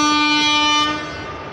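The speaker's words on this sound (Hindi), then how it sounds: "Doctor Ambedkar Nagar Prayagraj superfast express." A loud, steady multi-tone horn blares up close from the Dr Ambedkar Nagar–Prayagraj Superfast Express, then cuts off and gives way to rumbling train noise.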